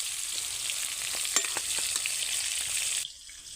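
Oil sizzles and crackles steadily at close range as pointed gourd pieces fry, with a few sharper pops and stirring scrapes, before the frying noise drops off near the end.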